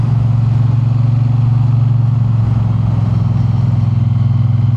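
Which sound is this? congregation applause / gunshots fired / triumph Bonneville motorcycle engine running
triumph Bonneville motorcycle engine running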